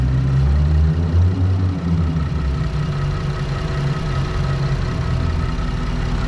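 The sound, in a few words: 2018 Ford Explorer Sport 4X4 engine idling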